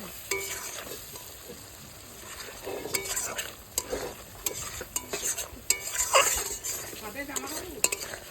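Spice masala with meat masala fries in oil in a pan for a fish dish, a crackling sizzle broken by repeated spatula stirs and scrapes against the metal, close up, with a few clinks and no clear talk.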